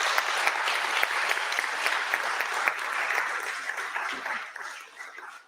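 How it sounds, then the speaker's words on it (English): Steady applause from an audience at a bioeconomy demo day, as the last presentation of the day ends. Dense clapping carries on for about five seconds and fades slightly near the end, with no talking over it. "So I want to applaud everyone here."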